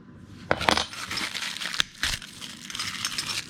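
A small metal wrench from a Westinghouse WGen3600v generator kit is handled near the microphone, giving a few light clinks and rustles of packaging.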